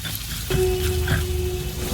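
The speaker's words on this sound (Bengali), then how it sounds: "আলু পেঁয়াজ ভাজা হয়ে গেছে" Sliced potatoes and onions frying in a pan, giving a soft steady sizzle with a faint tonal hum and a couple of light clicks over a short stretch.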